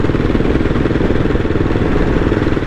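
A CCM Tracker British motorcycle engine roars steadily and loudly while riding at speed, a dense continuous drone with rough mechanical clatter and constant wind noise, no voices present.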